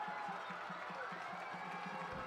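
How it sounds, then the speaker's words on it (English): A crowd at a high school football game swells and murmurs at a distance on 4th and goal, a steady roar with faint rhythmic clapping underneath. "Crowd down below us getting loud"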